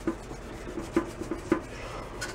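Wet sanding of old paint with 800-grit sandpaper on a barn-find Jawa motorcycle makes soft, repeated rubbing strokes, close and fairly quiet, in an uneven rhythm.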